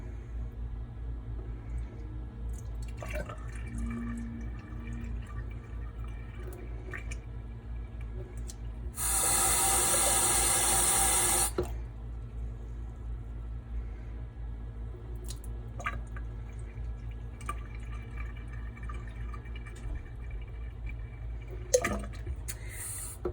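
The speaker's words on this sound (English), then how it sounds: "And then you fill the jar all the way up with water." Tap water runs into a jar of soaking cashews for a few seconds, a steady hissing fill against a quiet kitchen hum with faint clicks around it.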